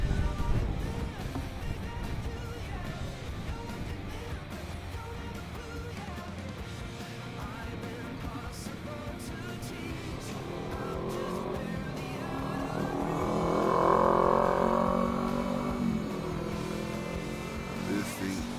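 A 1/10 scale RC Bison truck runs at full throttle, its small electric motor whining continuously with rising and falling pitch, swelling louder around the middle as it speeds past, with outdoor background noise.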